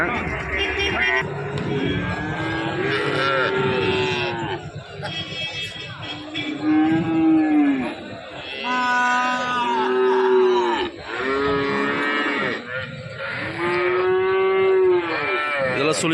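Cattle low over and over at the Karungalpalayam cattle market in Erode, with loud, drawn-out moos close by over a steady crowded background.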